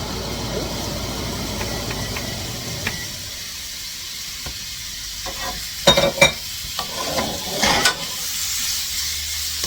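Steak searing in hot oil in a skillet over medium-high heat, a steady close sizzle with crackles, then a few louder pops and scrapes as the meat settles, no talk.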